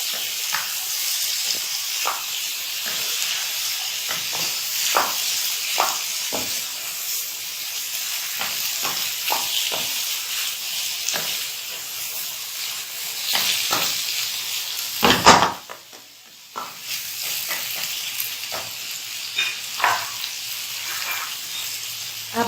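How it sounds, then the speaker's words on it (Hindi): Chana dal frying with onions in a pan, producing a steady soft sizzle with repeated stirring scrapes, a brief louder burst and clatter partway through, then the gentle frying hiss resumes. "दाल ऐड करने के बाद हमने दाल को भी थोड़ी देर इसके साथ प्याज के साथ फ्राई करना है"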